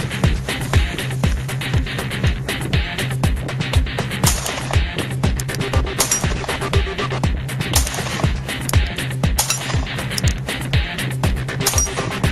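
Rapid repeated pistol shots from an FNP-9, fired one after another in a steady string of sharp cracks throughout, loud and close with no voices.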